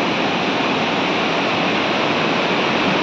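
A swollen river after continuous rain roars loudly and constantly, a dense, unbroken rush of flowing water with no voices.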